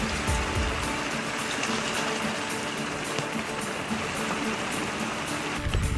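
Rain falls steadily on a boat, a soft even patter and hiss of drops on the deck and surfaces, fairly faint with no voices.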